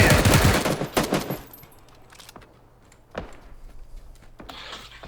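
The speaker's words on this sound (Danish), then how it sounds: "Fuck, jeg bliver skudt derovre fra." Gunfire in the video game PUBG: several sharp shot bursts, a dense volley at the start, then isolated cracks near the middle and the end, loud against a quiet in-game background.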